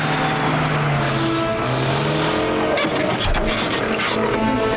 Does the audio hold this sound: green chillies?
no